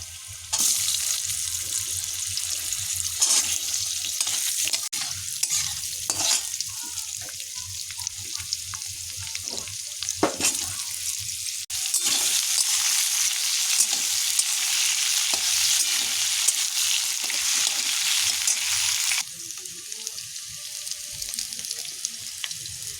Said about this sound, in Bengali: এবার ওই তেলের মধ্যেই দিয়ে দেবো আলুগুলো একটু ভালো করে ভেজে নেব।